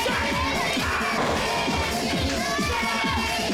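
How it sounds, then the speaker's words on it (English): A wrestling arena crowd gives a loud, continuous roar and cheers as a wrestler heads to the ring. The noise stays dense and unbroken throughout, with shouting voices mixed in. "Crowd on their feet the moment they heard Randy the Rowdy Hillbilly headed to the ring"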